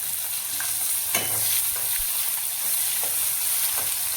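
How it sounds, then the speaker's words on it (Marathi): Onion sizzling in a pan with browned garlic, steady close frying hiss with occasional scrapes and clinks of a spoon stirring. "तर यामध्ये कांदा टाकून घेते."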